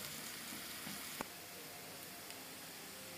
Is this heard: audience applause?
no